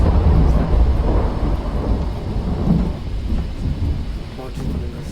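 A film thunderstorm roars with heavy rain and deep rolling thunder, loud and continuous throughout, a dense low rumble under steady downpour hiss with no voices.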